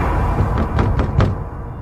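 Four quick knocks on a door, loud and close, evenly spaced, with no voices over them.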